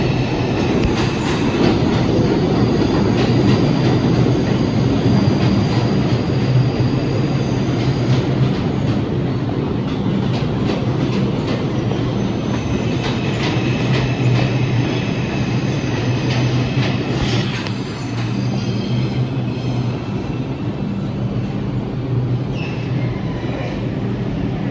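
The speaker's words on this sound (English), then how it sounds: "Alright, a train's coming." An NYC subway 4 train pulls into Bowling Green station with a loud, sustained rumble, rattling wheels and high metallic squeal tones echoing through the underground platform for the whole stretch.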